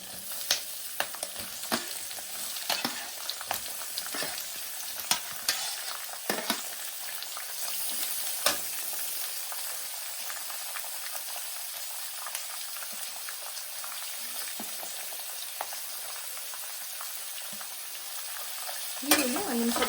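Onions sizzle and fry in hot oil with peanuts and chana dal for tamarind rice, a continuous close crackle broken by occasional scraping stirs, with no talk.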